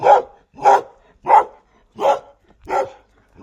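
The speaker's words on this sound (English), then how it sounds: "there's normally a dog just around this corner tied up" A dog tied up on a chain outdoors by cottages barks six times at a steady, evenly spaced rhythm, each bark loud and close with short silent gaps between.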